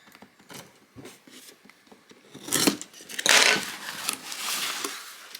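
Embroidery scissors slicing and crunching through a cardboard box during an unboxing, a run of quiet close snips building to several louder, rasping cuts near the end.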